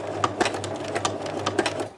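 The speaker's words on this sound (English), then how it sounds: "I'm just gonna back stitch" A sewing machine backstitches at a zipper stop while sewing a clutch bag, a steady rapid chatter of stitches, close up, with slight shifts in rhythm as it reverses direction.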